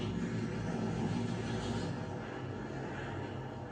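Airdrop plane in the video game Vigor passing overhead, a steady, broad engine drone that fades slightly as it continues, with no talking.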